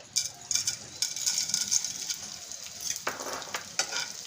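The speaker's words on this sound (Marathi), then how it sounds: "आता आपण आधी डिंक तळून घेणार आहोत।" Edible gum (dink) frying in ghee crackles and sizzles softly, with light stirring taps and scattered pops spread over a few seconds, close by and fairly quiet.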